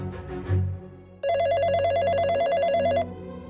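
A telephone bell rings in one continuous burst of about two seconds, loud and close, after a short low thump, with no one talking over it.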